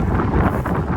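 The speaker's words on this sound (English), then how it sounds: "It's gonna be pretty windy up here." Loud, sustained 15 to 20 mph wind roaring across the microphone outdoors in the Florida Keys, a dense, unbroken rumble with no talking.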